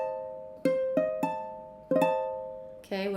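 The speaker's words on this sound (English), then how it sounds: "If it were diminished, it would sound like this." Piano-like chords struck in a diminished voicing, four sharp attacks that ring and decay one after another, heard alone before a voice begins at the end.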